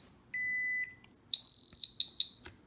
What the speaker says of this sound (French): Vous entendez 2 bips rapides et vous venez de dire au système que présentement, vous vous êtes débranché de la remorque